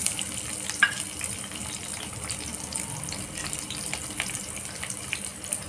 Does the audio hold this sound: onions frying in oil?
yes